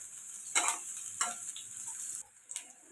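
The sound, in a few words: onions frying in oil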